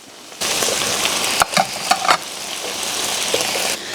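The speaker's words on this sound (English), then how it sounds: "when that's done, then I'm going to add my peppers into it, and my garlic." Peppers and garlic hit a hot pot for beef stew, bursting into a loud, steady sizzle with a few stirring clatters and scrapes near the middle.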